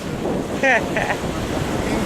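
Wind buffets the microphone over a steady wash of ocean waves out at sea during a beginner kitesurfing class in warm water, with a brief voice cutting in once.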